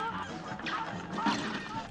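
Honking geese attack in the Cuphead: The Delicious Last Course video game, a dense, continuous wash of game sound effects and music with squawking calls throughout.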